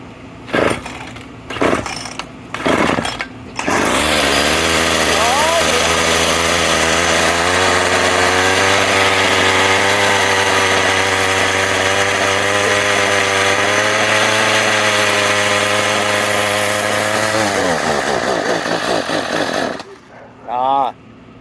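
A Craftsman weed eater's small two-stroke engine, long unused and suspected of a dirty carburetor, sputters through a few short bursts, then buzzes loudly and steadily for about fourteen seconds before it stalls out; voices are heard around the running.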